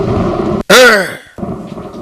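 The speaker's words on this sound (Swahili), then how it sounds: "Sasa mvua ikaanza kunyesha." A sudden loud thunder crack bursts out and rolls away over a steady background as rain begins to fall, the single boom lasting under a second before the ambience returns.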